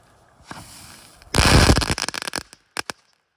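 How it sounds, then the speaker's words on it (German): Crackling ball fireworks go off close by: a soft launch thump, then a loud dense burst of rapid crackles that thins into scattered pops and a few final sharp snaps. "Gute Knaller, wie man sieht."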